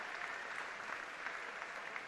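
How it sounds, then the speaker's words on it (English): A home crowd at a lead climbing World Cup final in Kranj, Slovenia, applauds and cheers during a medal ceremony, a dense, steady wash of clapping heard from within a large audience. "big cheer from the Slovenian crowd."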